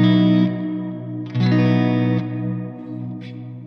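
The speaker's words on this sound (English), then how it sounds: "on the plate mode of the Big Sky, you have the tone knob, which can go really dark" A guitar runs through a Strymon BigSky reverb pedal in plate mode with the tone knob turned dark, giving sustained chords with a smooth, darkened wash and a soft tail that swells with each new strum.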